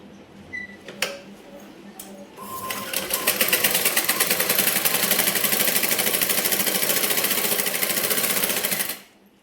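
A sewing machine stitches the side seams of a blouse, starting with a few scattered clicks and taps, then running in a fast steady rattling burst for about six seconds before stopping abruptly.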